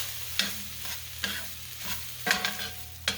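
Fried rice with sauce is stirred in a sizzling pan, a constant frying hiss broken by repeated scraping strokes of the utensil, close up with no voices.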